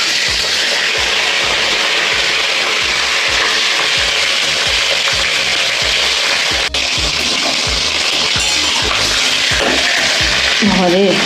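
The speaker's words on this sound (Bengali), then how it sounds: "এবার আমি এই বোয়াল মাছের মাথা দুটো ভেজে নেব" Two boal fish heads fry in hot oil in a wok, giving a loud, continuous sizzle and crackle that holds steady throughout, broken by a sharp pop partway through and by faint background noises near the end.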